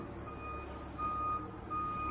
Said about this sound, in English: the recycling truck was here backing up, so it was really loud